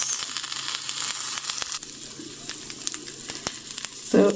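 Food sizzles steadily in a pan over very low heat while spaghetti bolognese is made from scratch, a continuous crackling hiss with scattered pops and a brief clatter near the end, no voices.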